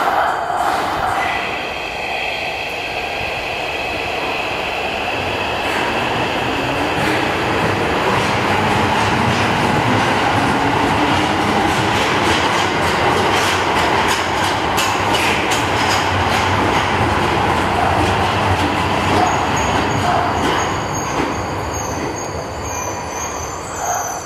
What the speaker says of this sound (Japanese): The local train bound for 茗荷谷 is arriving at track 2.